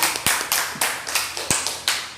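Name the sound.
classroom applause for a group presentation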